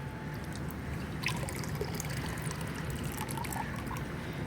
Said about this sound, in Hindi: पानी वानी निकल गया हमारा।